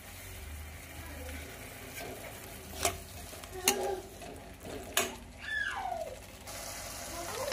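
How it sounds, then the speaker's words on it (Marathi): Tomato paste fries in butter for paneer masala, a soft steady sizzle running under several sharp scrapes and clinks of a spoon against the pan. "यानंतर घालायचे आहे आपल्याला टोमॅटो पेस्ट आणि छान असं फ्राय करून घ्यायचं आहे"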